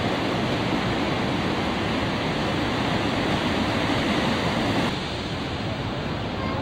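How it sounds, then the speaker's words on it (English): Big ocean waves break on rocks, a loud, steady roar of surf with no pauses or talk, easing slightly toward the end. "but they are nice big waves here"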